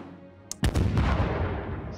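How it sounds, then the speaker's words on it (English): A suicide bomb goes off in the political simulation game Democracy 3, a sharp click followed by one loud booming blast that rumbles and slowly fades over a couple of seconds. "Suicide bomb."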